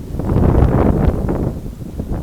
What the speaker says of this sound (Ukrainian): Вітер сьогодні хороший такий, і тому не спекотно.